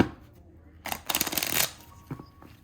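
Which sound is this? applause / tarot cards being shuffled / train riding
tarot cards being shuffled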